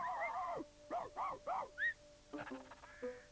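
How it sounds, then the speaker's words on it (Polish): A dog lets out a run of short, high yelping barks and whines, close and lively, with a brief pause between bursts. "Ale to mądry pies"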